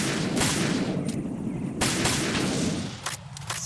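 A dense volley of gunfire in the video game Metal Gear Solid 2, shots cracking rapidly and overlapping in bursts, loud and close, with a few sharper reports near the end.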